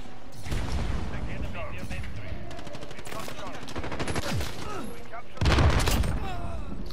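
Rapid bursts of automatic gunfire and single shots in Call of Duty Modern Warfare multiplayer, loud and continuous with a heavier blast near the end, while someone talks over the game sounds.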